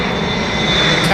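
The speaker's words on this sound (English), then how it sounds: "Captain Manny flying a plane he always wanted to fly" An aircraft passes at London Heathrow Airport, its broad steady engine roar sustained and fairly loud across the short stretch, swelling slightly toward the end.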